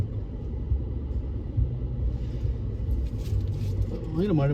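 A car drives along near Thrissur as rain threatens, and from inside the cabin a steady low road rumble and engine drone runs throughout while people talk over it.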